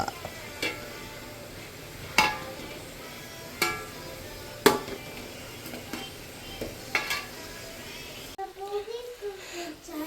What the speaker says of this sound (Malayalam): വെളുത്തുള്ളി പച്ചമുളക് ഇഞ്ചി സവോള ഇതൊക്കെ നല്ല എണ്ണ ഒഴിച്ച് ചാലിച്ച് ഇങ്ങനെ വഴറ്റി വഴറ്റി എടുക്കുക